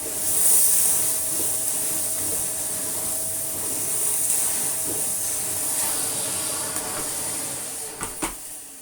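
A Victor V9 commercial dry tub vacuum runs steadily, a loud continuous airy whoosh with a high whine that holds level, ending with a couple of brief knocks and clatters near the close.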